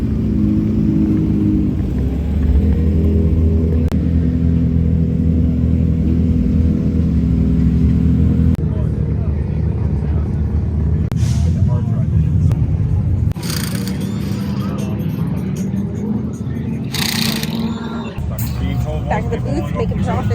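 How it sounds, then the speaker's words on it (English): Cars drifting at a car meet: a steady, loud engine rumble with rising revs and tire whir carries throughout, with bursts of sharper screeching noise and people talking in the background. "there's a lot of drifting going on"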